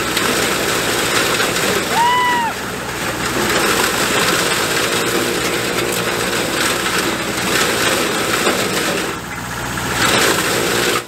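A custom snowblower mounted on a tractor's loader chews through snow and frozen ice blocks, its engine droning loud and steady throughout with a brief whining pitch sweep early on.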